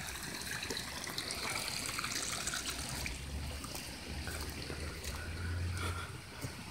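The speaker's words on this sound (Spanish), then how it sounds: "mediante un canalito que le hemos hecho, precisamente viene un poco de agua" Steady trickle of water running through a small hand-dug irrigation channel diverted for watering an avocado orchard, a continuous close babble with no talk.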